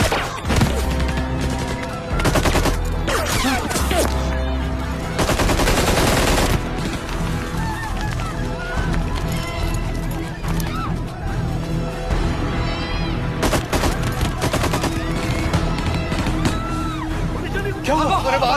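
Gunfire rattles outside a building in rapid loud bursts and sustained volleys, with heavy thuds between them, while voices talk over the shooting.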